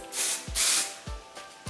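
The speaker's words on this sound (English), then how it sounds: "spraying kind of upwards to give it some lift and a little more body to it" Several quick hissing bursts of hairspray from an aerosol can, close by, with brief pauses between sprays and faint rustling underneath.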